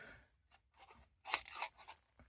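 An Olight Otacle S1 rescue cutter slices through post-it paper: a few short, crisp cutting and tearing rasps, with one longer, louder rip near the middle, close and otherwise quiet.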